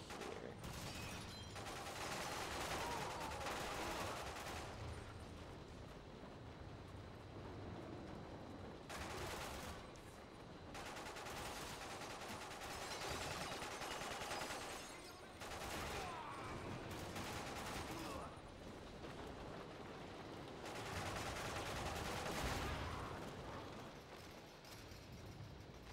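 Gunfire in the video game 007: Quantum of Solace, heard as long bursts of rapid automatic shots with brief pauses between them, loud and dense throughout, mixed with game mechanisms and effects.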